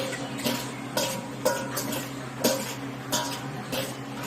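Salted mango (burong mangga) is stirred in a bowl with a utensil, giving a quiet, steady run of wet scraping strokes and soft clinks at roughly half-second intervals, with no voice.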